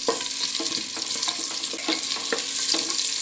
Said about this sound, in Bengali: খুব ভালো করে আলুটা আমি লাল লাল করে ভেজে নেব